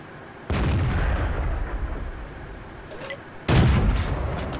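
Tank cannon fire in a video game, two heavy booming shots a few seconds apart, each followed by a rumbling decay over a low engine drone, with no talking.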